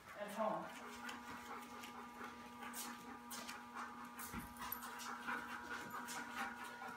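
A husky pants and whimpers close by, with steady breathy panting and a few thin whines, fairly quiet against the background.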